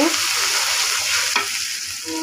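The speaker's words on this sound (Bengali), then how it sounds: "মশলাটাকে একটু ভেজে নেব," A spice paste with chili powder and salt fries in oil in a pan for an eggplant and small-fish curry, a loud continuous sizzle with brisk stirring scrapes and a sharp clatter midway.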